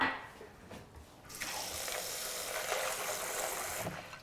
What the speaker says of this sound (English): all I do is add a little bit of water